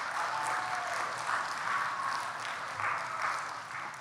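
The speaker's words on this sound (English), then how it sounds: "Give her a round of applause." A school morning assembly crowd gives a round of applause for a woman invited up, steady moderately distant clapping from many hands that holds evenly throughout.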